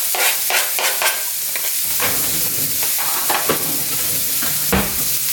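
Chopped onions hit hot oil in a stainless steel pan and fry with a loud, continuous, close sizzle, full of dense crackling and spattering pops throughout.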